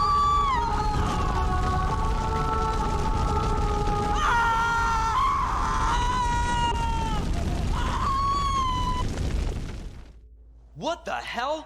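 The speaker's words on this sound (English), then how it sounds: "Her scream, the poor thing, it must have hurt terribly." A woman screams in the video game Pathologic 2, loud drawn-out wailing cries over rumbling game noise for several seconds before cutting off. A short burst of speech follows.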